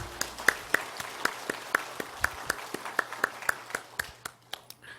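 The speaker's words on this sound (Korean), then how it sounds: "하나님께 영광의 박수를 드리겠습니다" A church congregation at a Sunday worship service claps in unison, a steady rhythmic beat of roughly two claps per second rising over a room murmur and tapering off at the end.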